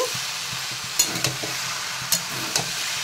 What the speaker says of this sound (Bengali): একটু ভালো করে ভেজে নেব পেঁয়াজের সঙ্গে আলু